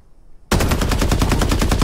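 Rapid automatic gunfire in Farlight 84 starts abruptly after a short quiet moment, then rattles on loud and steady as a fast, even burst with no voices.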